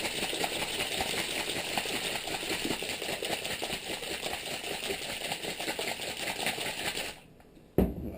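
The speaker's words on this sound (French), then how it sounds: "me regarder agiter le checker, c'est pas forcément fun à regarder" Vinaigrette rattles steadily inside a shaker, a dense continuous churning of liquid and container lasting several seconds before it stops abruptly, followed by a short knock.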